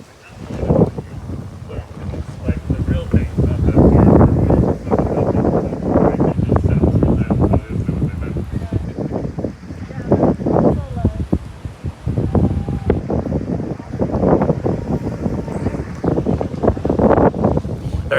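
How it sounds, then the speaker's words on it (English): Strong wind buffets a camera microphone outdoors in a city park, producing loud, uneven rumbling gusts throughout, with faint voices partly buried in the noise. "I'm not going to talk for a few seconds because it's going to be really windy."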